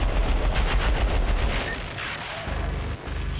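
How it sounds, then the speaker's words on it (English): Gunfire from the video game Syndicate: loud, dense bursts of shots with booming low-end impacts that run nearly continuously, easing slightly midway before another burst, with no talking. "by just popping a couple shots into him."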